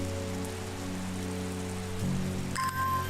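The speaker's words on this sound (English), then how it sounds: "It's raining after all." Rain falls steadily in the occult plant-shop game Strange Horticulture, a soft even patter under sustained low musical tones, with a brief brighter chime near the end.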